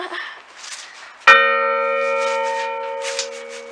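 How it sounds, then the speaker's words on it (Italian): The largest of three church bells at San Michele Arcangelo in Voltorre, Italy, strikes once with a sharp clang, then rings on with a long, sustained hum that slowly fades, faint voices murmuring around it. "abbiamo un concerto di tre campane, il campanone"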